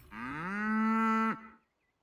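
An ox in the video game Baldur's Gate III gives one long, loud, close moo that rises slightly in pitch, holds steady and then cuts off abruptly, followed by silence.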